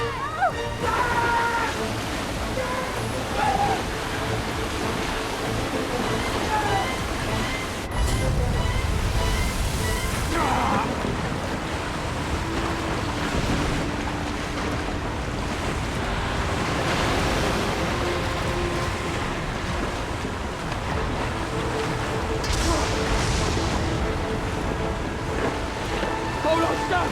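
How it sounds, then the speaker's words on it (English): Rushing floodwater and surging waves fill a disaster scene, a dense continuous roar of churning water with a heavy low surge near the start, while voices shout over it. "The water's rising!"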